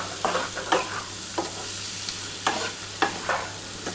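Potatoes, onion and tomato sizzle in hot oil as a spoon or spatula stirs through them, giving a steady close fry with repeated scraping strokes at a loose, uneven rhythm.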